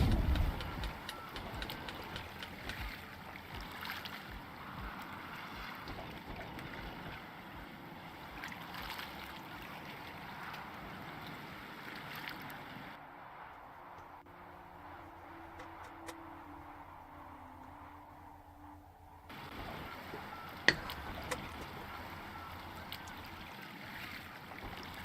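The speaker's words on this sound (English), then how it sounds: "Alright, we manually sail back." Sailing ship at sea in a video game, a steady wash of water and wind rolling along at moderate level, with a brief quieter stretch before the sea noise returns.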